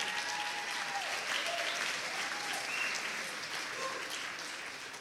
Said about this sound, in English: Steve, let's give him a round of applause.